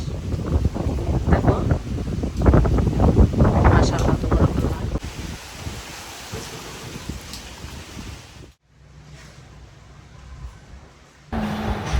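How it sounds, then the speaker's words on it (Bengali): Wind blowing outdoors in open countryside, rushing and buffeting the microphone loudly at first, then settling to a softer steady breeze with a brief drop near the end. "এত সুন্দর বাতাস বাতাস"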